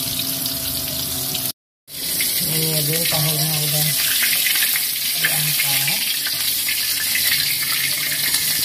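Tofu fries in hot oil with a steady loud sizzle and crackle, while someone talks briefly over it.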